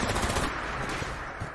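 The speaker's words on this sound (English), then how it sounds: "I just chasing him down with a Gatling gun" Gatling gun firing in Fallout 76, a dense rapid rattle of shots that is loud and close at first, then eases off over about a second and a half.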